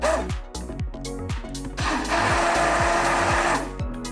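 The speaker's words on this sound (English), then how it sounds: "I prefer to use the immersion blender depending on what type of pasta you are serving" An immersion blender whirs as it crushes tomatoes for pasta puttanesca, a loud motor drone with repeated rhythmic surges as the blade chops through the mixture, rising into a steadier grinding buzz midway.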